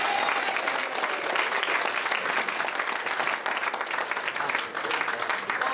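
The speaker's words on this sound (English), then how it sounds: "a round of applause" Wedding guests clap through the best man's speech, a dense, steady round of applause from a room full of people, continuous and fairly loud, with faint voices mixed in.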